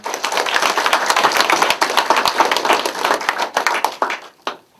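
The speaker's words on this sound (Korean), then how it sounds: "우리 스스로를 격려하는 의미에서 큰 박수 한번 칠까요?" A group at an office staff meeting claps their hands in a loud, close burst of many individual claps that tapers off into a few scattered final claps before stopping.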